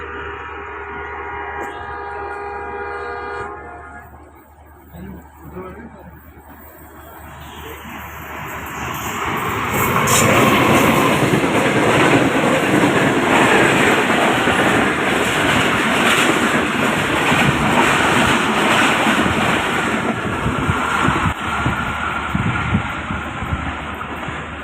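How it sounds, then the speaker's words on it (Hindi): A train approaching a railway crossing, starting as quieter background sound and then swelling around the midpoint into a loud, sustained rumble and roar that holds to the end. "ये जो क्रॉस है, ये ट्रेन आ रही है।"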